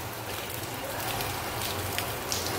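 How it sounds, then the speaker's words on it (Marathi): Steady rain patters on a surface, soft and continuous, with a low hum underneath and no voices. "पाऊस पण पडतोय जायच्या टायमालाच"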